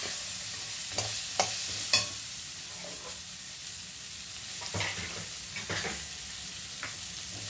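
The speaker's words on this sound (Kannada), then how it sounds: "ಆಮೇಲೆ ಇದಕ್ಕೆ ಒಂದು ಸ್ವಲ್ಪ ಕರ್ಬೇವು ಹಾಕ್ತೀನಿ ಚೆನ್ನಾಗಿ ಬಾಡಿಸ್ಬೇಕು" Vegetables and peas with curry leaves being sautéed in a pan, with a steady sizzle throughout and several sharp scraping stirs of the spatula spaced across it, no talk.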